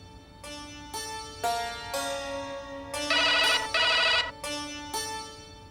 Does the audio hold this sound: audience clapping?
no